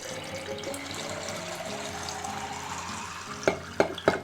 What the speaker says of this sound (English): I could just bring it over to the sink and just fill it up with the hose